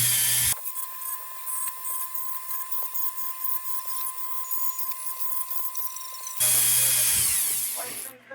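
A power tool whines steadily while scoring metal for an 1880s S.G.&L. No. 0 tubular lantern, a high sustained buzz with a faint tonal hum, stopping briefly before a louder burst near the end, close and alone.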